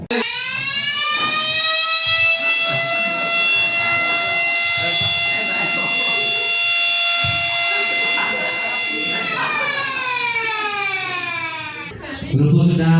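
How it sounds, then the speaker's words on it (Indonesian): A school siren sounds loud and steady for an earthquake drill, its sustained rising-and-holding wail filling the space before it winds down near the end. A brief voice can be heard faintly underneath. "Kepala sekolah membunyikan sirene."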